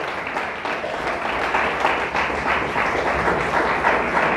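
A church congregation claps strongly during a Spanish-language sermon, a sustained full round of applause with some rhythmic accents, steady and fairly loud from start to finish.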